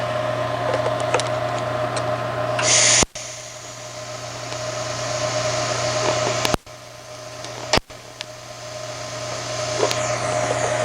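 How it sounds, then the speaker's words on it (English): TIG welding at the very end of a metal piece with a 3/32 2% lanthanated tungsten electrode: a steady, even hiss and hum that runs continuously, broken by a few sharp clicks and brief dropouts, with no talking. "You can easily do that weld right at the end without melting it all away."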